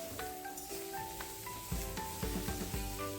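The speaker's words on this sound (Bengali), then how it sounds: "শুকনো লঙ্কা আর রাঁধুনি ফোড়ন দিয়ে এখন কিন্তু আমি লাউ শাকটা ভালো করে ভেজে নিচ্ছি" Bottle gourd greens fry in hot oil with dried chilli and radhuni, giving a steady close sizzle with stirring scrapes and a few louder bursts of spatter; background tones hum underneath.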